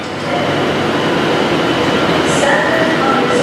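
A Class 156 diesel train at Carlisle station gives off a steady, loud rumble and rolling noise that holds evenly for several seconds, with faint higher tones drifting above it.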